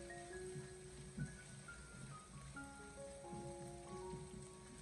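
Chili bean paste being stir-fried in a wok for a dry-pot cauliflower dish gives off a steady, even sizzle. Soft background music plays over it and no one speaks.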